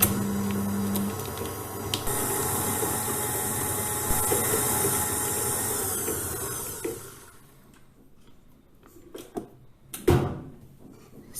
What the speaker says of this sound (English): Use the paddle attachment to beat the butter.